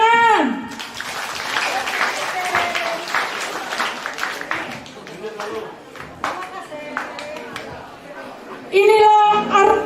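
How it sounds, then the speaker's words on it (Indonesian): An audience applauds at an Easter worship celebration in Bali, a dense, sustained wash of many hands clapping for several seconds, with a voice speaking briefly before it begins and again as it fades. "Tepuk tangan."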